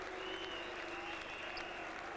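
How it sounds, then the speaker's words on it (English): A healthy crowd at Kensington Oval, Barbados, applauds during a 1998 West Indies v England Test match: steady, continuous clapping from a large, distant crowd, an even wash with no breaks. "Terrific hand of reception from"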